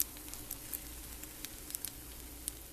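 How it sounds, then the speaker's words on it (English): Soft, steady sizzling of Italian sausage frying in a pan, with faint crackles and pops scattered throughout; quiet and continuous. "now I'm pouring in some Italian sausage"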